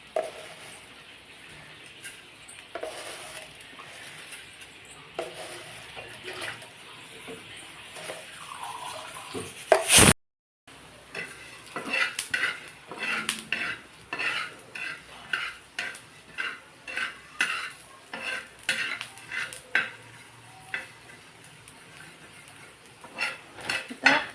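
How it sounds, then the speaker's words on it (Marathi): Coriander seeds dry-roasting on a hot griddle, with a run of quick scraping and rattling strokes as they are stirred, steady near clatter after a brief break. "आता आपण त्याच तव्यावर धने भाजून घ्यायचे"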